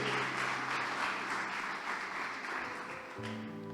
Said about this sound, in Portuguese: Quem deseja experimentar essa verdade, dá um aplauso para Jesus